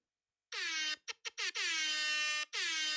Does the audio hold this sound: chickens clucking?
no